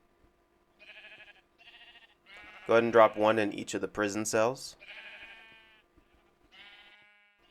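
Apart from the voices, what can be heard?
sheep bleating in video game Minecraft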